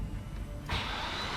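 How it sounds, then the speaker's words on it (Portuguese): A flooded, rebuilt Porsche GT3 RS engine cranks and catches, a steady low idle noise jumping to a louder, brighter roar about two-thirds of the way through, close and continuous with no talk. "O motor chegou a dar partida."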